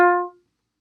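A wind instrument sounds one clear, steady note played legato, loud at the onset and fading out within about a third of a second, followed by silence.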